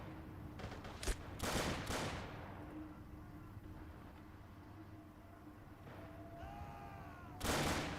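Gunfire crackles through a video game tank battle in a Robz Mod tournament match, with a few sharp bursts of shots spaced across the stretch and a final loud volley, over a low rumbling battlefield din.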